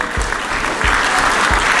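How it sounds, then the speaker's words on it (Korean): A crowd at a book launch event applauds steadily, a dense wash of clapping hands at an even loudness throughout. "박수로 환영해 주시기 바랍니다"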